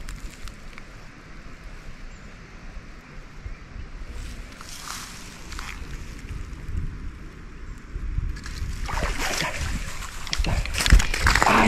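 Water sloshes and splashes while fishing for tararira with a bamboo rod, soft rippling at first, then a louder burst of splashing and churning near the end.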